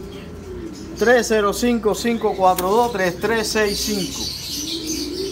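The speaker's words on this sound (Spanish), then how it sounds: "Miren esa calidad de palomo macho." A male light blue pigeon coos in a rapid series of rolling, throaty calls close by, with someone talking over and between them.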